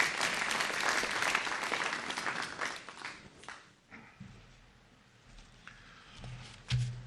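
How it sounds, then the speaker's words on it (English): Audience applause at a World Bank and IMF Spring Meetings panel debate on Africa's digital economy, welcoming the IFC CEO to the podium: a dense round of clapping that fades after a few seconds, followed by scattered handling noises. "A warm round of applause as we welcome him to the podium"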